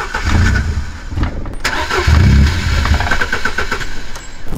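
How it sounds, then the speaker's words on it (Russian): Turbocharged 2.0-litre MG ZR engine running steadily and close by, a loud continuous rumble with low pulsing surges and some mechanical clatter, no talking. "Но вот, мотор работает ровно"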